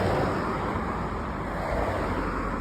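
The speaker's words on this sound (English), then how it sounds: "these cars are so loud" Steady, loud roar of cars passing on a road early in the morning, a continuous broadband wash of tyre and engine noise close by with no pauses.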